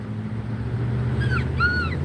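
Puppies whimper in two short, high, wavering whines over a steady low background hum, faint and close together.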